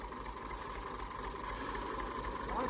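A tractor engine chugs steadily at idle, a low rhythmic throb with a faint rising whine near the end.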